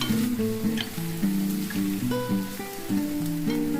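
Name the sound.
mutton liver curry frying with turmeric and chili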